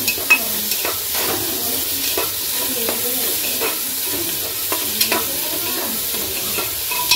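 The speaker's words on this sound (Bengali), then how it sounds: "পেঁয়াজটা ভেজে নেব।" Onions fry in oil with whole spices for a mutton curry, making a steady, close sizzle. Scraping stirs recur throughout.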